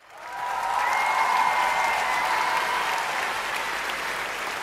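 Audience applause on a Vietnamese TV competition show, swelling quickly into a sustained, even wash of clapping with a faint tonal hum underneath.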